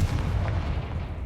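Confringo fire spell blast in the video game Hogwarts Legacy: a dense, booming low rumble with a sharp burst, sustained and loud throughout the short moment with no talk.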